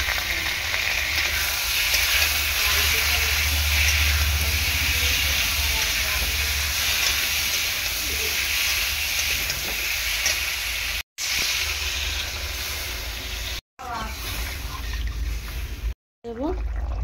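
Cumin paste hits hot oil in a pan and sizzles with a loud, continuous frying hiss. The sizzle is cut by a few brief gaps, with faint stirring scrapes near the end.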